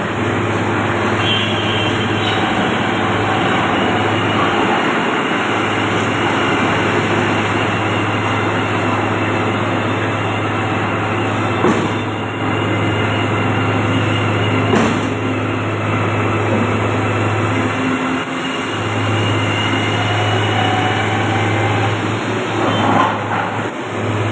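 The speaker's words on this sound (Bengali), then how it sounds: "boring machine" A boring machine drilling into the ground drones loudly and steadily with a deep engine hum, broken by a few brief dips and knocks, with no voices.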